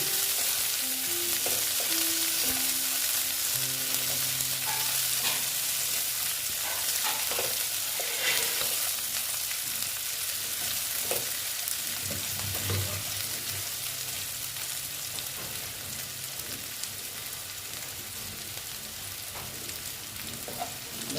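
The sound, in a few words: onions frying and being stirred in a pan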